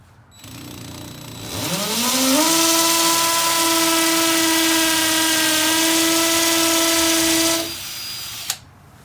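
Power drill boring a deep hole for a plaque anchor, motor whining up in pitch to a loud steady high drone for several seconds, then stopping abruptly with a small click after.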